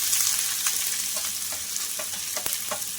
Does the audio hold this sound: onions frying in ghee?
yes